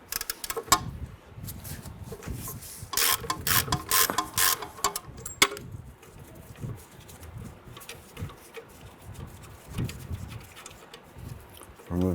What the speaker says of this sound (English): Remove the ABS wire bracket using a 15/16 socket and our ratchet.